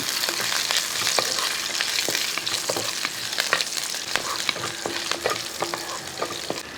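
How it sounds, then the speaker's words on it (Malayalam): Green chillies and chilli powder sautéing in a pan for a mackerel fish curry, giving a steady loud sizzle broken by repeated sharp scrapes and clicks of a stirring spoon throughout. "മുളക് പൊടി ചേർത്ത് ഒന്ന് ഇളക്കി നല്ലപോലെ ഒന്ന് വഴറ്റിയെടുക്കണം"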